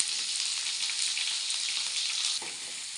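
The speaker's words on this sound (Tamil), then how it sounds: "எண்ணெய் காஞ்சதும் அதில் நம்ம உரித்து வச்சுருக்கிற வெங்காயத்தை ஆட் பண்ணிக்கலாம். பூண்டையும் ஆட் பண்ணிக்கலாம்." Oil sizzles steadily as onions and garlic fry, a bright continuous crackle close by, easing slightly near the end after a brief stir.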